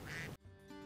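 A loud nasal quack rings out at a high-tech duck farm holding around 16,000 ducks, followed by a quieter, sparse mix of faint tones, close and brief.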